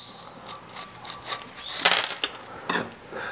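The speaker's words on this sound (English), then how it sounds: "I'm gonna pull up on this assembly and see if it comes out." Heating element assembly being pulled out of a Craftsman heat gun: faint plastic and metal rubbing and scraping, then a cluster of sharper rattling clicks as parts shift loose, close and quiet.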